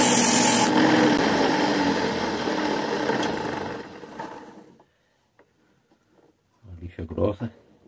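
Sandpaper grinds against an aroeira wood pen blank spinning on a handmade lathe, giving a loud, continuous rasping rub that fades to silence, followed by a short stretch of speech.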